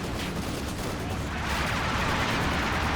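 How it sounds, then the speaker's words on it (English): A Panzer tank cannon fires in the Company of Heroes 2 real-time strategy game amid a dense, continuous roar of battle gunfire and explosions. "Panzer firing away"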